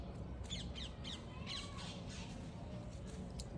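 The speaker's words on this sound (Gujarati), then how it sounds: "પોપટ હે" A household parrot gives several sharp, harsh squawks in bursts, close to the microphone, over a steady background hum with no one talking.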